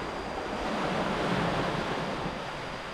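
Sea waves wash steadily along the shore at Pangandaran, a continuous broad rush with wind noise and no distinct breaks.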